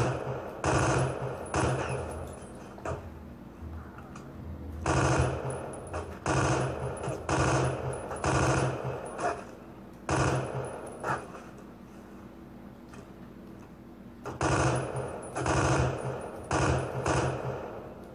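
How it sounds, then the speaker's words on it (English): Bursts of automatic gunfire from the World War II video game Brothers in Arms: Road to Hill 30, loud rapid volleys in repeated clusters separated by short pauses, with no talking. "I need suppressive fire."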